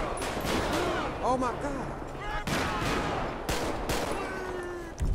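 Gunfire rings out in GTA 5 during a police patrol mod: several loud, booming shots spaced a second or so apart over steady game noise, while someone shouts in excitement.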